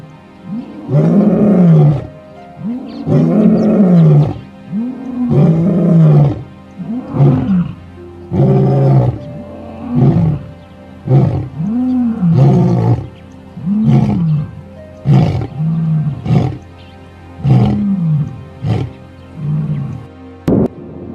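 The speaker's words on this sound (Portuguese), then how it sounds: "Este território também pertence ao rei da savana, o leão." A lion roaring in the Namibian savanna at Etosha, a long series of deep, rhythmic grunting roars repeating every second or so, loud and close, with no talking.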